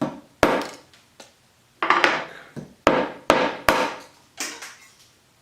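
A cast resin hammer strikes a nail repeatedly, about nine sharp, close knocks at an irregular pace, each a hard crack with a short ringing decay, with no voices.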